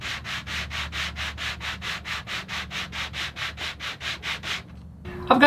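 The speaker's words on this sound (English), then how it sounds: "sanding it in the dish to get the exact radius on the brace" A wooden acoustic guitar brace is rubbed back and forth in a radius dish, a steady rhythmic scratching of about twenty even strokes close by, ending with a small clatter.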